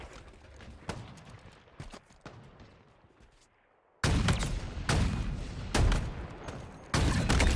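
Shotgun blasts in Halo Infinite ring out as a handful of loud, sharp reports, scattered early and then heavier, denser shots packed into the second half, with no one talking.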